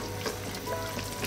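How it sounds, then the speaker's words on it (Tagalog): Chicken pochero with chickpeas is stirred in a pot. A steady, close sizzling bubble runs throughout, with faint stirring sounds and no voices. "Again, haluin lang natin."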